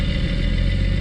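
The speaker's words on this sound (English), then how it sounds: "if we speed up the engine, it'll speed up and tell us what it's running at" An engine idling loudly and close with a rough, clattering low rumble, holding steady without an obvious rise in speed.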